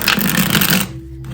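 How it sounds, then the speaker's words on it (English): Tarot cards shuffled by hand for a reading, a dense papery riffling and rustling that runs close and steady for most of the moment, then stops abruptly, leaving quiet room tone. "I'm thinking as I'm shuffling these cards"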